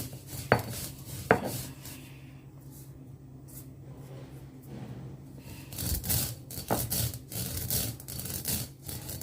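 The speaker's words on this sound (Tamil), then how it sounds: "அதனால் அம்மியில் பொடிக்கிறேன்" Lightly roasted mustard seeds being crushed on a stone grinder (ammi) for an amla pickle, with sharp knocks at first, then a steady rasping, grinding scrape that grows louder, no talking.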